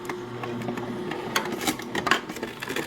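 A juicer grinding carrots, giving a continuous mechanical whirring hum punctuated by irregular sharp crunching and clattering bursts as the carrots are chewed up, close and fairly loud with no talking.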